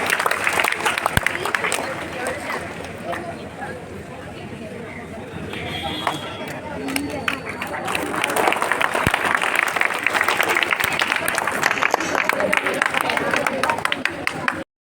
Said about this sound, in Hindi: जोरदार तालियों से इनका इस्तकबाल कीजिए